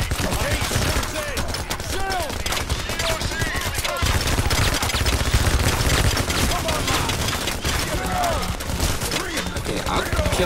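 Dense, continuous gunfire from the co-op heist video game Payday: The Heist, rapid automatic bursts layered with shots and impacts, loud and sustained throughout with game effects mixed in.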